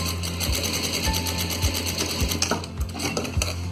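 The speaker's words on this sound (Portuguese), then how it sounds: "passe uma costura com o pé de máquina de meio centímetro" A sewing machine runs a half-centimetre seam with the presser foot on fabric for a paper-tissue holder, a fast continuous mechanical whir with rhythmic thumps from the needle, close and clear, without speech.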